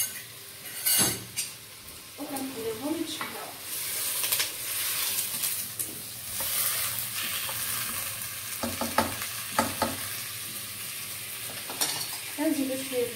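Potatoes, peas and onion frying in butter in a pan, a close sizzle broken by repeated stirring clatters and utensil scrapes, with no voice.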